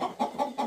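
A rooster in a backyard chicken coop gives four evenly spaced, close, mid-pitched clucks in a steady rhythm, with nothing else around them.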